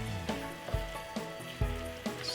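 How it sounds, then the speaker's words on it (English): Tuna pasta sizzling in a pan under steady frying hiss, with a few soft knocks as it is stirred, close and fairly quiet with no talk. "So you give it a lovely stir"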